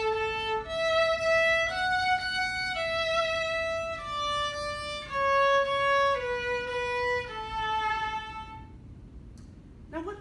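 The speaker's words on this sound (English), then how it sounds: "Here's a part of a famous Mozart song tuned at 440A hertz." A passage from a famous Mozart piece tuned to A 440 Hz plays as a single sustained melodic line with rich harmonics. Its notes step downward steadily at a moderate, even volume and end with a brief noise.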